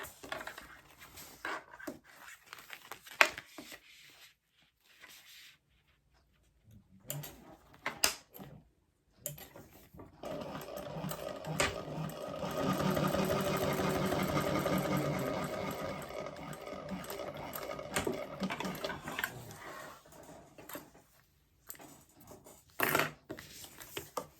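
A sewing machine top stitching a bag seam, with short bursts and handling clatter, then a longer steady whirring run of several seconds before more brief stops and starts, close by.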